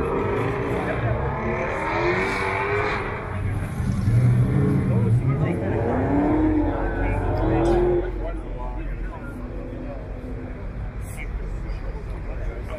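Steady traffic noise from cars on Highway 7 rumbles in the distance, heard from a nearby lot. It is a constant broadband roar with occasional passing surges while people talk over it.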